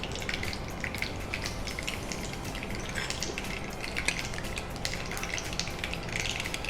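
Mustard seeds splutter and crackle in hot oil in a pan as tempering for puffed rice poha. The sound is a dense, steady sizzle with quick popping bursts throughout, close and moderately loud, with no one talking.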